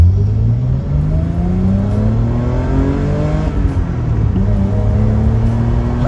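A rare BMW 333i engine revs and accelerates loudly and up close, its pitch climbing through the gears in a continuous, strong drone.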